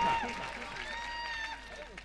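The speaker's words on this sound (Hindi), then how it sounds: "तमाम तालियों से खैर मकदम कीजिए" Audience applause at an All India Mushaira poetry gathering in Lohta, Varanasi, a dense steady wash of clapping and crowd noise filling the hall with a faint voice over it.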